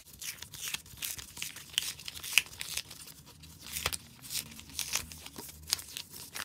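A paper envelope holding autograph mail is torn open up close, a series of short ripping and crinkling bursts that are quiet but crisp, with no talking.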